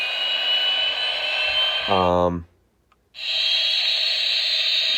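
A steady whooshing jet-engine roar from a 2010 Hess toy jet, briefly broken by a buzzing tone, then a short silence before the roar returns.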